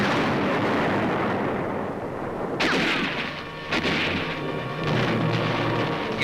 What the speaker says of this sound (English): A Japanese comes into the open, throws a yard-long grenade before being hit.